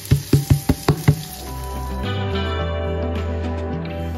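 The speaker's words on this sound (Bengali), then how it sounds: "1 কেজি চাল আমি ধুয়ে রেখেছিলাম আগে, এটা এখন আমি দিচ্ছি, দিয়ে একটু ভাজা ভাজা করবো" Washed rice goes into a pan for Bengali-style hilsa polao: several sharp knocks at the start, then a continuous soft sizzle and rustle as the grains fry, close by with a steady hum underneath.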